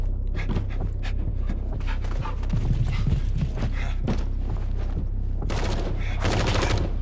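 Video game gunfire from The First Descendant: bursts of sharp shots and rapid automatic fire crackle over a steady low rumble of in-game ambience, growing denser and more intense toward the end.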